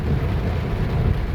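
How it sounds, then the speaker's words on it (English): Massive raindrops pour down suddenly in Mauritius, a dense low rumbling patter that holds steady and close through the brief moment. "it's out of nowhere, these massive raindrops."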